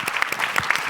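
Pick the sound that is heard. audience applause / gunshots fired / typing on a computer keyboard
audience applause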